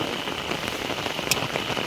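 Steady rain patters on a hard surface up close, a dense, continuous hiss with scattered drips throughout.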